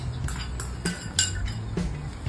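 Stirring in a pot as pickled garlic and other ingredients are spread through it, for a Thai-style steamed snakehead fish dish; a few light metallic clinks and scrapes of a utensil against the pot over a low steady hum.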